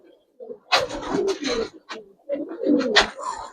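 Close, repeated soft cooing from Gribaz coloring pigeons kept in a loft, several throaty phrases rising and falling in quick succession with no talk.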